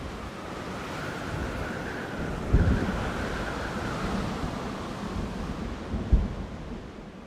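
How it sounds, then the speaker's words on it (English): A thunderstorm in Jurassic World Evolution 2 sweeps over a dinosaur park, with a constant roar of wind and rain and two dull thunder rumbles at moderate volume, no voices. "I've literally just opened the park and a storm decides to hit."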